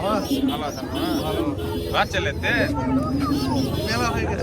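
Domestic pigeons coo repeatedly at a busy bird market, soft rolling calls close by, heard beneath a steady babble of people talking and bargaining around the stalls.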